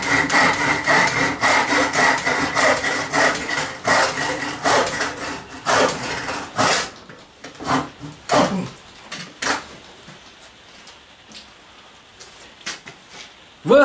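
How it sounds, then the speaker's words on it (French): A worn hand saw (égoïne) cuts through wood in a dense run of rhythmic rasping strokes, then binds and stalls into a few scattered, uneven scrapes and knocks. "la scie est usée, elle se coince dans le bois que l'on veut scier"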